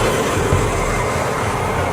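A train pulls away from a station platform in Brussels, a loud, continuous low rumble with rhythmic wheel thumps and rattling carriages close by.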